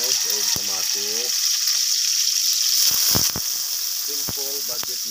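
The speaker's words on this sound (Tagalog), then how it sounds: "Apit na mo brown mga guys atong sibuyas ug ahos." Onions and garlic sautéing in a pan for a simple budget meal, a steady broad sizzle running throughout, with brief clinks of stirring and a voice talking over parts of it.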